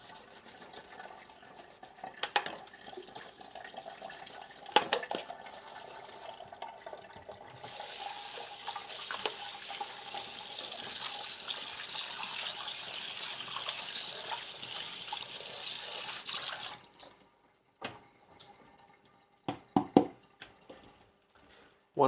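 Tap water running into a sink while a bowl from beating eggs is washed: a steady, close splashing stream for about nine seconds, then the tap shuts off, followed by light clinks and drips in a quiet kitchen.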